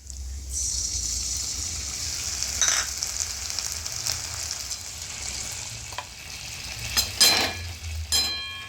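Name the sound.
ginger garlic paste frying with onions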